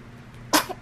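A single short, sharp sneeze bursts out nearby, loud and abrupt against a quiet indoor room, followed by a small catch of breath.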